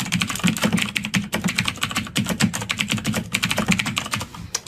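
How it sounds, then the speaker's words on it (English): Song lyrics being typed on a computer keyboard: rapid, close keystrokes in an uneven rhythm, with brief pauses between bursts, and no voices. "I'm going to type in a lyric from a song that I like"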